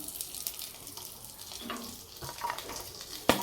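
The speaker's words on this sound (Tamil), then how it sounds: "போட்டு நல்லா வறுத்துங்க." Ingredients dry-roasting in a pan, a soft crackle and hiss with occasional scrapes and a sharp knock near the end, fairly quiet and close, no talking.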